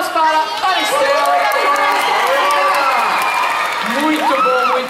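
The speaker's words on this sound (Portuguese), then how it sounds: "Palmas para a Estela." Audience at a live Brazilian children's game show applauds and cheers loudly, a sustained crowd roar with whoops and rising voices throughout.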